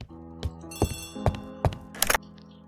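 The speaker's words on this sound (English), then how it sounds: "Poirot, the telephone." Telephone ringing in the video game Agatha Christie The ABC Murders, a series of bright repeated bell rings at regular intervals, moderately loud with no talk over it.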